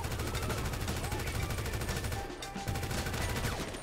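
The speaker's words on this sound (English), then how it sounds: "I've been shot. With a pistol." Gunfire rattles through a GTA 5 rooftop police chase, a dense run of shots over steady game noise, with a voice speaking faintly underneath.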